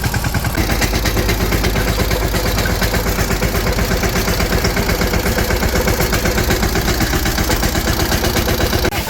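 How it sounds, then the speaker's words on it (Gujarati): A tractor engine hauls a trolley inside, chugging loudly and close by in a steady, throbbing idle-like rhythm that runs unbroken for the whole stretch with no talk. "હાલો અંદર આવી ગયો ફાઇનલી ટ્રેક્ટર આખે આપણે ટોલી અંદર લઈ લીધું"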